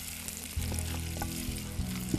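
Raisins fry in hot oil for spiced rice with almonds and chicken, crackling steadily while a couple of brief stirring scrapes cut through the sizzle.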